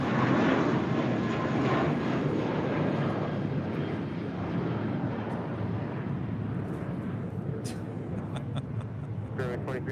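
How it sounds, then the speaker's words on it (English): FedEx MD-11 arriving at LAX, a loud broad jet roar that fades slowly over several seconds, with voices talking faintly underneath. "You have a FedEx MD-11 coming in from Memphis."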